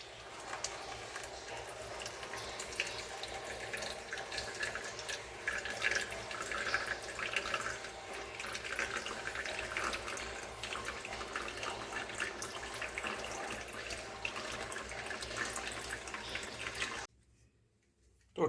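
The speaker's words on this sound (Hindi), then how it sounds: "तो इसका पानी आना भी चालू हो गया है।" Water runs steadily from a homemade RO purifier combining RO, UV, UF and mineral stages, a continuous faint trickle into a container that stops abruptly near the end.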